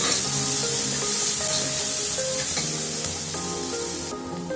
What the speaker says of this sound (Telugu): ఇలా అల్లం వెల్లుల్లి పేస్ట్ది పచ్చివాసన వెళ్ళేదాకా ఫ్రై చేసుకున్నాక మటన్ వేసుకోవాలి